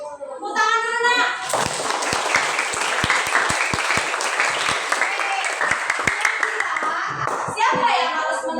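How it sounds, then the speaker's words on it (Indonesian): A class of middle-school pupils at SMP YPBI 11 in Lubuklinggau claps together for a classmate, loud sustained clapping with sharp individual claps standing out, framed by children's voices and a teacher talking before and after. "Tepuk tangan dulu nak."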